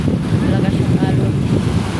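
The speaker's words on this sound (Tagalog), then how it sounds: "Malakas yung alon" Rough water surges and churns with heavy rumbling wind buffeting the microphone, a loud continuous roar of sea and gusts.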